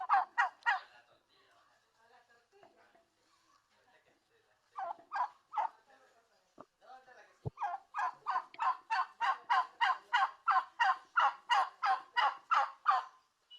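Wild turkey calls played from a recording through a speaker: short bursts of clucks, then a long, rapid run of repeated yelping notes in a steady rhythm, moderately loud, with no talk.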